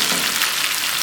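Hot tempering with finely chopped ginger sizzling as it is poured into cooked moong daal, a loud continuous frying hiss and crackle close by, with no talking.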